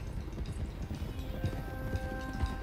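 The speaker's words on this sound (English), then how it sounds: "let's get these horses to Clemens Cove quick before we run into any more trouble" Horses clip-clop steadily in Red Dead Redemption 2, with dense low hoofbeats under a constant rumble of ambient game sound and no talk.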